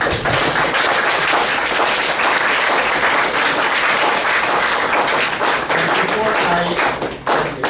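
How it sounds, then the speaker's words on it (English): Loud, sustained applause from a poetry book launch audience for the exhibiting and performing artists, dense and steady throughout with some voices mixed in, tapering slightly at the end. "please join me with welcoming and all exhibiting and performing artists with a big round of applause"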